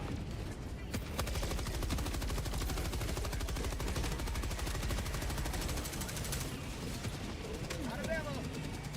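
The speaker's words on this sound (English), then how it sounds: "Machine gun." Sustained rapid gunfire from a machine gun in a combat video game, dense and continuous bursts throughout with a player's voice talking over it.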